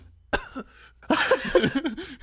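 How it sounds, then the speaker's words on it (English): A short burst of coughing, then a longer stretch of rough, throaty sounds and vocal noise, fairly close and moderately loud. "She's been coughing periodically"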